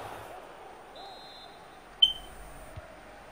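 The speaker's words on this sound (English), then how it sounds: "Shout out to the smoke detector." A smoke detector gives a single short, high chirp indoors, fairly faint against steady background game noise.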